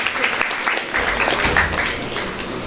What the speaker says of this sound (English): A huge round of applause for ma'am, please.